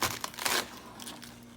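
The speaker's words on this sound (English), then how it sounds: "Go in from the base, enough that you think you're gonna be able to use a stamp from it." Knife cutting through the crisp base of a lettuce head to make a vegetable stamp, heard as a few close, crunchy crackling and tearing bursts that fade into quiet.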